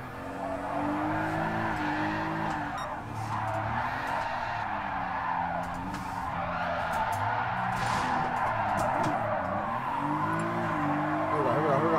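A 550hp Nissan 300ZX drift car in GT Sport roars steadily through the whole stretch, its engine note rising and falling through gear changes, with tire squeal layered over it and faint talk underneath.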